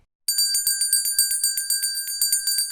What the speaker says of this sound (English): Then the big bell rang,